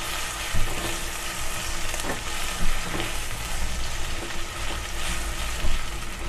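Garlic and ginger paste fries in oil in a pan over low heat for khara masala kaleji, a steady, close, loud sizzle with a few small pops and stirring scrapes.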